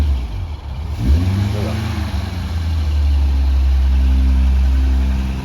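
A classic Vauxhall Velox car engine, pull-started in neutral with the ignition on, cranks once and then settles into a loud, steady idle with a deep low rumble close by.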